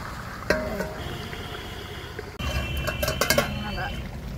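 A lid set down over a pan of eggs cooking in a kitchen, giving a sharp clink followed by a later metallic clatter and rattles, with a steady sizzling hiss and a voice speaking underneath.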